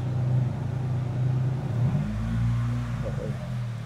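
A close Mitsubishi Galant GTI engine under full restoration hums steadily at idle, then revs up with a rising, smooth growl before easing off, with no speech.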